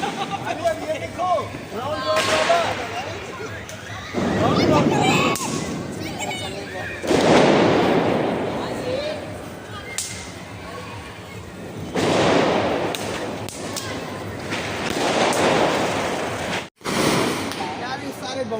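Diwali firecrackers burst repeatedly near and far, with crackling pops and booming blasts at uneven intervals while people talk throughout.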